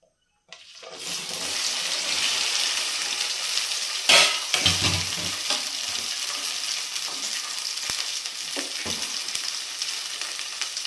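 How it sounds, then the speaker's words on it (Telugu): Okra frying in a pan as a side for dal gives a loud, steady sizzle that starts suddenly and carries on throughout, with a few sharp clatters of stirring. "మళ్ళీ నేను ఇక్కడ ఫ్రై చేస్తాను పప్పులోకి"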